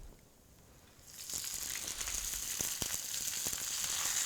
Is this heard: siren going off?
no